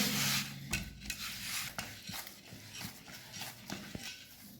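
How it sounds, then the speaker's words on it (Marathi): Puri dough is kneaded by hand with a little oil, producing close, soft squishing and rubbing sounds with irregular pressing thumps and no speech. "आपल्याला थोडासा तेल टाकायचं आहे पिठावर आणि मळून घ्यायचे"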